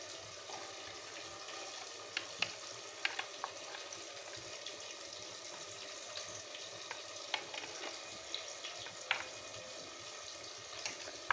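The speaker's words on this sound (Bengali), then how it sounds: "এখন দেখো আলুটা ভাজা হতে থাকো" Potatoes fry in a pan as the first step of a goat meat curry: a soft, steady sizzle with scattered sharp crackles and pops, quiet and close, with no voices.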